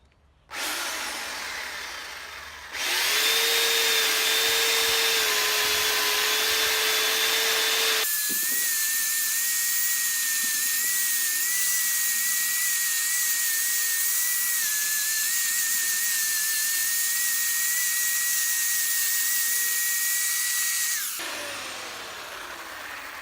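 A power tool cuts away wood to level an anvil bracket, a loud steady whine that spins up, holds a high pitch for about twenty seconds, then winds down, with no talking.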